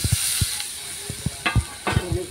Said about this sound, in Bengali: তখন আলু ভাজাগুলো ঢেলে দেবো।